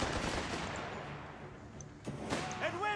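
MG42 machine gun bursting in Company of Heroes 3 amid game battle noise, with scattered sharp reports and a louder crack near the end; faint voices mixed in.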